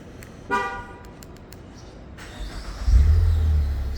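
A 2014 Ford Fusion engine turns over with a brief starter whine, then settles into a deep, muffled low rumble at close range.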